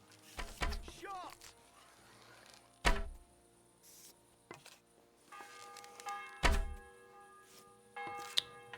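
Arrows striking a target in a medieval archery video game land as a few sharp, hollow thunks spaced several seconds apart, with a person talking between the hits.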